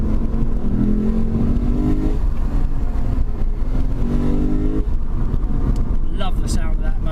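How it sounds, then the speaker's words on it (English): A 2017 Lexus RC F's V8 engine revs loudly and steadily beneath continuous driving noise, with someone talking over it the whole time. "Love the sound of that motor. That is revy beastie V8."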